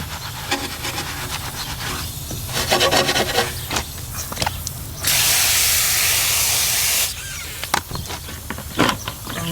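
A lathered brush scrubs the brake calipers behind a car wheel, giving close, wet, rasping strokes in uneven bursts, with a sustained hiss of spray in the middle before the scrubbing resumes.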